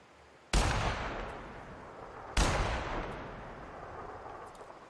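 Two loud, heavy weapon blasts in The Outer Worlds, about two seconds apart, each a sharp attack followed by a long decaying boom.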